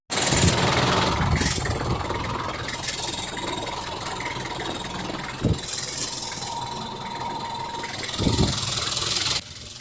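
A Nissan Frontier engine runs steadily with its aircon compressor engaged, producing a continuous mid-range hum with a few soft knocks and clunks over about ten seconds.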